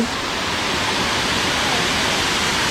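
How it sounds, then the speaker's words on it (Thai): Kaeng Mongkol waterfall near Luang Prabang, Laos, roars continuously, a dense steady rush of falling water with no talking. "สวยมาก น้ำตกแก้วมงคลนะคะทุกคน"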